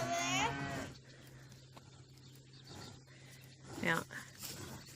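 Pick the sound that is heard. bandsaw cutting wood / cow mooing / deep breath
cow mooing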